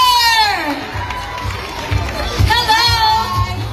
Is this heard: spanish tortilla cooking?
no